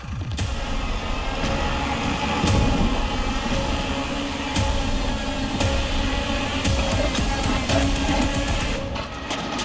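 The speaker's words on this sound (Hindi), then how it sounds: "बुलडोजरों के इंजन जाग गए" Several bulldozers rumble at dawn beside a madrasa in fields at Pipra Ramlal village, Domariyaganj; a continuous low diesel drone with clanking transients runs steadily throughout, fairly close.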